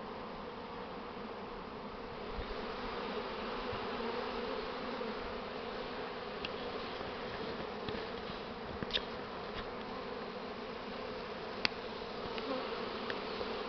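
A swarm of honeybees at an apiary hums in a steady, dense drone that holds for the whole stretch, with faint individual buzzes passing close now and then and no voices.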